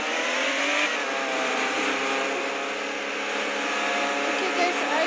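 Car driving in the Roblox game Taxi Boss, a steady engine drone held at an even level for the whole stretch, with no clear revving or squealing peaks.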